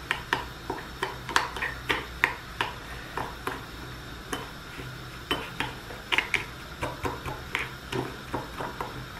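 A spoon stirs tteokbokki sauce of gochugaru and sugar in a bowl, producing a steady series of light clinking taps, close and moderately quiet, with no talk over them.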